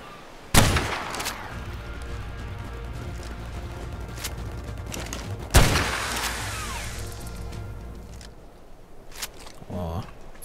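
Two sharp, loud gunshots about five seconds apart ring out in ARK: Survival Evolved, each followed by a decaying tail, with quieter game sounds in between.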